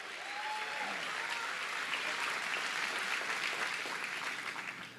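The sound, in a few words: applause in church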